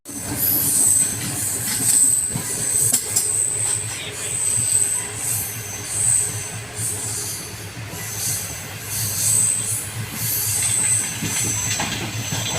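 A passenger train slowing into Lahore station, with a steady close rumble of rolling wagons and bursts of high wheel squeal repeating throughout, no voices.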